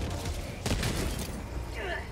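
Enemy gunfire and rocket blasts in Helldivers 2, with automaton bots opening fire: a dense, rattling barrage with a heavy burst near the middle, loud and continuous throughout.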